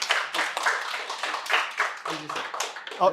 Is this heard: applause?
yes